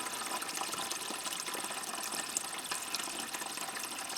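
Water runs steadily into large containers being filled for bathing at an off-grid home site, a continuous dense rushing hiss with no pauses, close and fairly loud.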